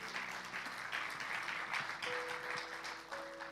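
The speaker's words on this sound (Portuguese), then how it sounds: "Dê um aplauso bem forte ao Senhor." Church congregation applauding together, a steady wash of many hands clapping at moderate distance with a low organ or keyboard tone sustained underneath.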